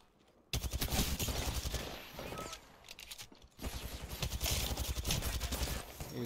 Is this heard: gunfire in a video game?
yes